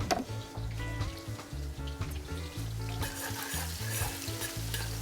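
Yam and garlic fry in hot oil in a Trinidad home kitchen, a soft continuous sizzle broken by repeated stirring and scraping in the pan.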